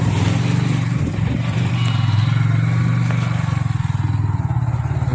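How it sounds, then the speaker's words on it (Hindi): A motorbike crosses a village water crossing on a ride linked to Ladakh, its engine chugging loud and close in a steady low throb with some clatter and splashing noise. "फिर देखिए यहाँ पे वाटर क्रॉसिंग"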